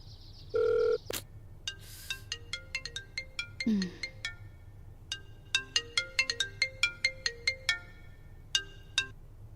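A phone ringtone plays a bright, repeating electronic melody of quick plinking notes, steady and close, after a short burst of beeps.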